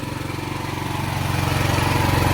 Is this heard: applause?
no